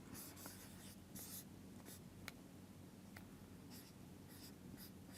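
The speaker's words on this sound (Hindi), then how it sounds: "तो मैं ये लिख लेती हूँ आपके लिए यहाँ पे" Steady hand-writing strokes on a surface while a short Hindi-language English lesson is explained, scratchy and continuous at close range with faint bursts, no voice.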